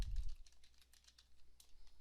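Quick, light clicking of typing on a computer keyboard, a steady patter of soft keystrokes at low volume with no voices.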